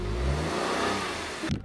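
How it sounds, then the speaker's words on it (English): A car engine revs hard as it struggles up a steep, narrow road near Meteora, Greece, a loud, close, strained drone that climbs in pitch and then fades briefly before a final rough burst. "they heard our car revving and having trouble"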